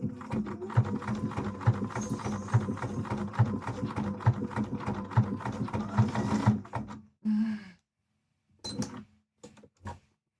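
A sewing machine stitching fabric for a Link cosplay from Twilight Princess, running in a steady close mechanical chatter for about seven seconds, then stopping and restarting in short bursts as the fabric jams.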